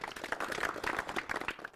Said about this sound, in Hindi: एक बार जोरदार से तालियां भाई खुद के लिए हो जानी चाहिए